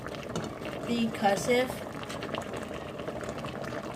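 Pasta boiling in a pot of water for chicken Alfredo, a steady bubbling simmer running throughout at moderate level beneath talk, with a voice and brief tonal sounds near the middle.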